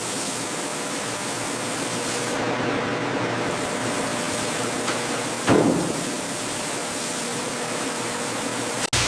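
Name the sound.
water spray bars rinsing fruit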